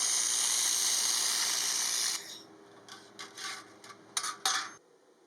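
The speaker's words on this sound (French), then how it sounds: "on va faire un assemblage qu'on appelle hétérogène, en essayant de souder de l'inox avec du laiton" A handheld laser welder works on a joint between stainless steel and brass, giving a loud, steady hiss for about two seconds, then a run of short, separate hissing bursts, with no voices.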